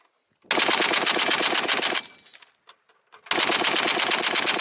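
Machine gun on a military training range rips out two long sustained bursts of rapid automatic fire, loud and close, separated by a short pause with a few scattered shots and ringing echoes.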